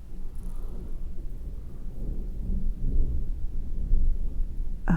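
Rolling thunder with rain on a dark early afternoon, a steady low rumble that swells toward the end beneath a soft wash of rainfall, with no voices.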